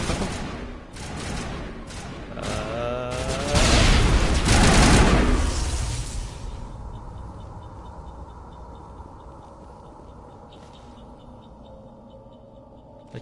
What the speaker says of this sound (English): I keep accidentally throwing grenades because it's mapped to square